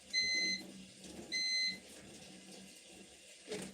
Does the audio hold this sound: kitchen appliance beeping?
yes